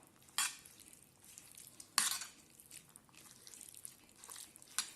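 Grated mozzarella and processed cheese being stirred into a mushroom and rice filling, quiet close scraping and a few sharp spoon-against-bowl clinks.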